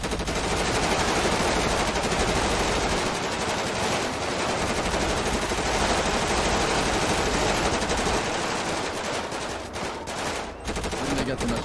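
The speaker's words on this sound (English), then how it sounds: "Why is everybody shooting?" Sustained automatic gunfire in the Grand Theft Auto V roleplay game, a loud, unbroken stream of rapid shots lasting over ten seconds with no pauses, dense and close.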